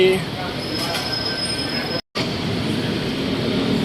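Steady rumble of a BTS Skytrain at the elevated Ha Yaek Lat Phrao station in Bangkok, with metallic wheel squeal and a bright high whine, broken by a brief cut midway.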